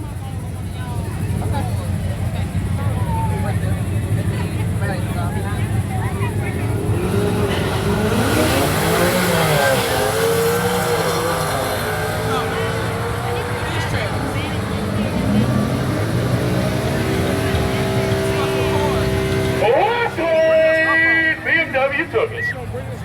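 A BMW and a Ford Mustang 5.0 street race, their engines roaring loudly and steadily with rising revs and a passing whoosh near the middle, while people talk over the noise nearby.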